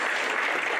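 Audience at a West Wing fan convention applauding steadily, a dense even wash of many hands clapping at close range, with no voices over it.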